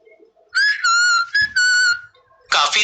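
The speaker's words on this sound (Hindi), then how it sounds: "सीटी मारकर बुलाओ।" Someone whistles to call dogs, giving several clear, loud, sustained tonal blasts in a quick series, followed by a short breathy note.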